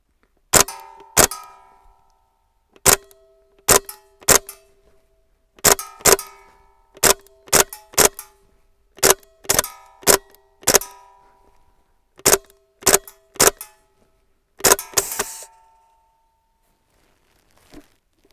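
A Browning airsoft pistol fires a string of sharp, close shots, around twenty in irregular bursts with pauses between, each a crisp snap with a short metallic ring, and no talking between shots.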